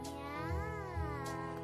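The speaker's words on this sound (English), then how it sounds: "She meows." A cat meows twice in quick succession, close and fairly soft, with no talking.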